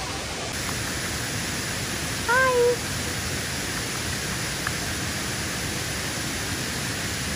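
The Roberto Barrio waterfall near Palenque, Chiapas, Mexico, gives a dense, steady roar of rushing water that fills the whole clip, with a brief greeting spoken midway over the constant noise.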